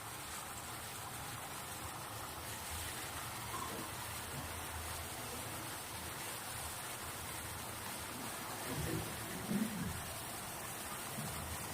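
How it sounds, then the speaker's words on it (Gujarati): Fafda, a gram-flour snack, deep-frying in oil, giving a steady, dense crackling hiss that holds evenly throughout, with a couple of faint soft knocks near the end. "હવે આપણે ફાફડાને તેલમાં તળી લઈશું."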